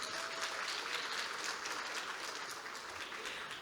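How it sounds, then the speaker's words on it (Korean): Steady applause from an audience at a Korean scientists' conference welcome dinner, a dense even patter of many hands that carries on without a break from start to finish at moderate volume. "네, 박수 한번 부탁드리겠습니다."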